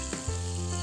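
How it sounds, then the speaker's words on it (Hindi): Loud, steady sizzling of hot tempering oil poured into a pot of beef nihari, crackling continuously at close range with a brief stir at the start. "अभी यहाँ पे हम इसके ऊपर ये तड़का ऐड करेंगे"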